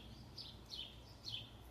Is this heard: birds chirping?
yes